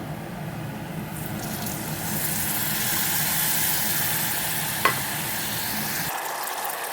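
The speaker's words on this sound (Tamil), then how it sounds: "கலந்துட்டு நாங்கள் புளி தண்ணி இதுக்க விடுவோம்" Tamarind water hits a hot pan of beetroot curry, a steady loud sizzle and bubbling that swells and holds, with a single sharp clink near the end before the hiss cuts off.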